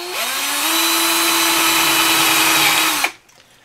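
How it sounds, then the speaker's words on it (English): A power drill whines steadily at high speed for about three seconds while drilling a hole in the center of a jar lid, then abruptly stops, leaving near silence. "Take your lid off of your jar and just drill a hole in the center of it."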